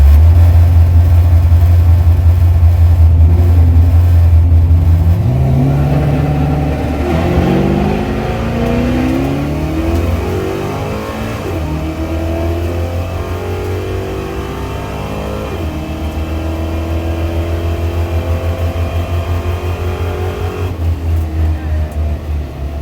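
Several race cars on a track day start and accelerate away together, loud rising engine notes layered over a steady low rumble, with a voice talking over the din.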